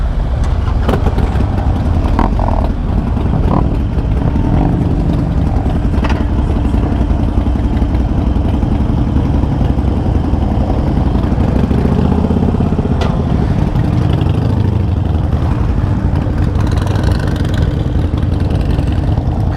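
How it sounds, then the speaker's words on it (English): A group of Harley-Davidson motorcycles on a HOG club ride start up and idle together, a loud, steady, throaty engine rumble with occasional revs and mechanical clatter running throughout. "All the bikes are starting up. Such lovely grunty noises."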